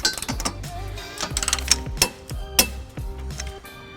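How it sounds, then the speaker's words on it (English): A ratchet with an 18mm socket and extension tightens the trailer hitch bolts on a 2003 Chrysler Town and Country, giving off close, rhythmic clicking strokes about every half second with small metallic clinks in between. "So we're going to use an 18mm socket with a 5-inch extension"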